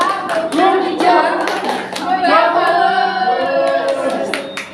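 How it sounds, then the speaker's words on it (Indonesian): A classroom group in a microteaching session claps a rhythmic 'good job' cheer, with bursts of patterned hand claps mixed with chanting voices, loud and close throughout. "kita kasih tepuk good job untuk Mbak Irma dan kawan-kawan ya"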